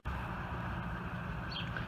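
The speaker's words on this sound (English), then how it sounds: "I want to apologize for the traffic noise in the back." Busy morning traffic on Main Street makes a low, steady rumble in the background, a continuous far-off drone with no voices over it.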